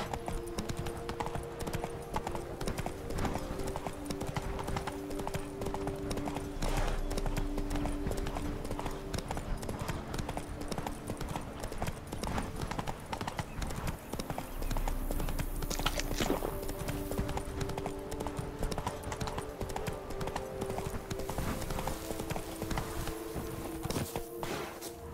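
Horse hooves gallop continuously in The Witcher 3's Blood and Wine expansion, a fast, even clip-clop rhythm that runs throughout over game ambience and faint music, close and fairly loud.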